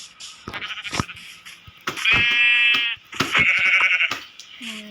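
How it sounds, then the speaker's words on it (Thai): Sheep on a farm bleat loudly and close by in several drawn-out calls, with brief rustling and handling noises between them. "นี่แกะตัวแรก"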